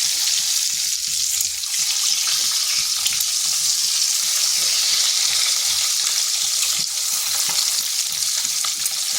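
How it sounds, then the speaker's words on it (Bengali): Eggs frying in hot oil seasoned with salt and turmeric over slow-to-medium heat, giving a steady, close sizzle with faint crackles and occasional stirring noises throughout, no talking. "এরপর ডিমগুলো ভেজে নিচ্ছি।"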